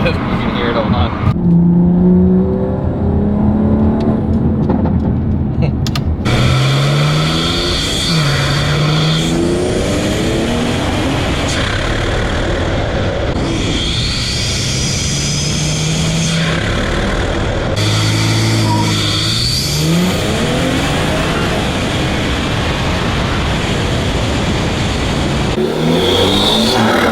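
A BMW 340i with a B58 engine, aftermarket intake and downpipe revs repeatedly and loudly, engine pitch climbing and dropping through several pulls with turbo whoosh, while a person talks intermittently.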